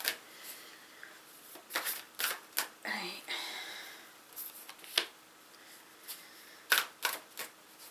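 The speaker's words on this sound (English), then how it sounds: "I can't shuffle cards" Large playing cards being shuffled clumsily, a series of sharp riffles and flicks with irregular bursts and pauses, close and fairly quiet.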